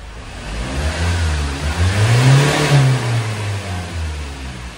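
A Hyundai Starex CVX with low power and a check-engine light revs up once from idle and settles back, a loud, close engine rise and fall.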